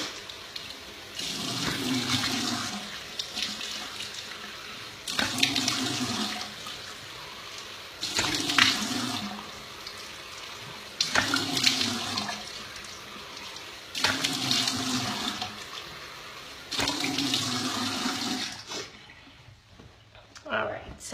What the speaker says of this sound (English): I just splash water on my face and kind of rub it off